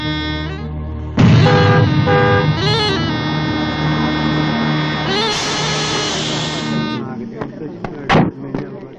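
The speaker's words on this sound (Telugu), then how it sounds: "దారి కట్టగా నిల్చొని హార్న్ కొడుతుంటే వినపట్టాలా" A vehicle horn honking on a road in a Telugu film scene, one long loud sustained blast with shifting pitch, followed by shorter trailing sounds and a sharp knock near the end.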